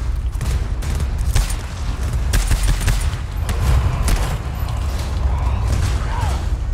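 Gunfire in the game GTFO comes as rapid bursts of shots and sharp cracks over a low mechanical rumble, with a few clicks and creaks.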